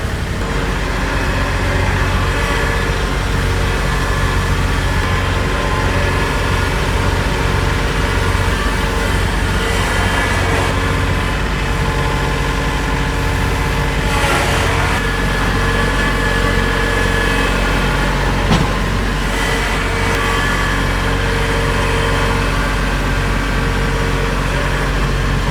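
A Kubota tractor's engine drones steadily and loudly throughout while soil is loaded with its bucket, a constant mechanical hum close by with slight variations and no breaks.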